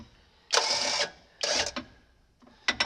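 A winch on a John Deere 8700 being tensioned for kernel processor removal gives three short whirring bursts separated by quiet gaps, close and moderately loud.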